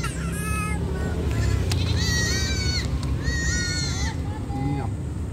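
A goat bleats close by in several loud, wavering cries, with a further short bleat near the end, over a steady engine rumble and background chatter from people nearby.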